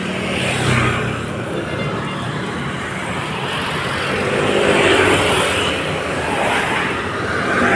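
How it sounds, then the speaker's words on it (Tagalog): Motorcycles and traffic rushing along a busy street near a construction site in the Lawton area of Manila, a steady road roar with vehicles swelling past, fairly loud and continuous. "Bibilis ng mga motor oh."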